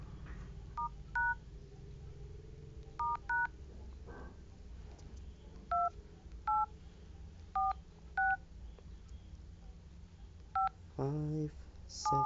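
Touch-tone dialing beeps sound from an Honor 6X phone, a series of short distinct tones in irregular clusters, with a person speaking faintly underneath and a longer tone near the end.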